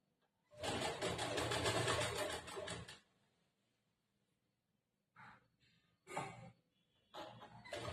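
Sewing machine slowly stitching folded piping on a blouse: one loud run of about two and a half seconds, then silence and a few shorter, quieter bursts of stitching.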